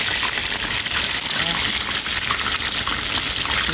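Chicken sizzles and crackles steadily in hot oil, a dense continuous frying hiss with small pops, close by.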